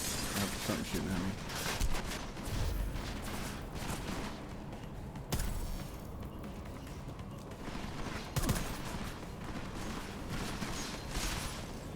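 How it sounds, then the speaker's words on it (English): Gunfire in Deus Ex: Mankind Divided, with scattered sharp shots and mechanical clatter over a dense, noisy game soundscape that persists throughout. "Something shooting at me."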